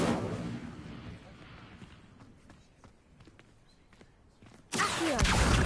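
Incendio fire spell cast in the Hogwarts Legacy video game: a loud, roaring burst of flame at the start fades into scattered soft thuds and taps, then a second sudden fiery blast erupts near the end and holds at full strength.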